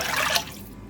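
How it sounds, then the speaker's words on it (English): Water is poured into a slow cooker holding chicken broth for split pea soup, a brief, soft liquid splash and trickle that fades within a second. "So I'm gonna start with my chicken broth, my water,"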